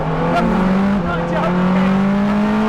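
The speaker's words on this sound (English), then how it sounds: "Accelerate, off we go!" A Porsche 963 RSP race car accelerating on a public road, its engine droning loud and close with a steadily rising pitch, while a voice talks over it.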